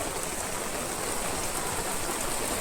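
Heavy rain pours at Ulun Danu temple in Bali, a dense, even wash of broadband hiss filling the whole stretch without pause or voices.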